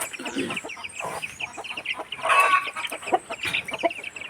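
Several Indian country (naati) chickens cluck and squawk excitedly after one has laid an egg, close by, in loud overlapping bursts, with a sharper cackle rising midway.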